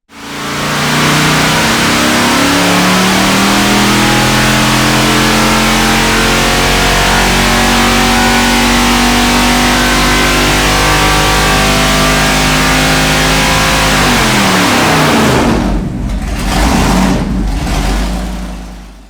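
A 454 big block Chevy with a small cam roars on a dyno, a loud sustained pull with rising engine tone that climbs steadily for about fifteen seconds, then cuts off with a few short blips as it winds down.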